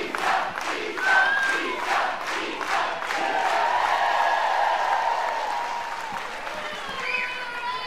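A softball stadium crowd at a college game between Florida State and Auburn cheers and applauds loudly for a curtain call, with sustained claps, whoops and shouts swelling and then slowly fading.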